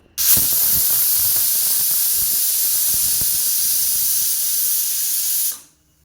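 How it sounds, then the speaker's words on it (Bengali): A pressure cooker cooking pea dal lets off a loud, steady rush of steam for about five seconds before cutting off abruptly. "চলো মটরের ডালটা একটু সিটি দিয়ে নিই কারণ মটর ডালটা একটু প্রেশারে সিটি দিলে তাড়াতাড়ি রান্নাটা হয়ে যায়"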